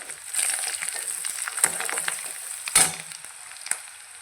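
Onion and curry leaves fry in a pan for pithla, crackling and sizzling with irregular stirring scrapes and a few sharper spatula clacks, moderately close and with no talk.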